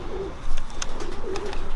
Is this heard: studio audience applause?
no